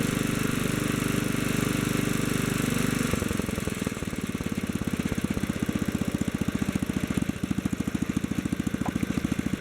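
A Kohler K-series engine runs steadily while its carburetor is adjusted, a loud continuous drone that shifts after a few seconds into a rapid, even pulsing beat, heard alone.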